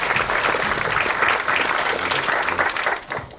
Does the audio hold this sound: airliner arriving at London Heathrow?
no